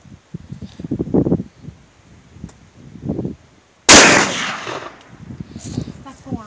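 A shotgun shell is loaded and the gun fires once with a sharp, loud blast that rings out, preceded and followed by people talking nearby.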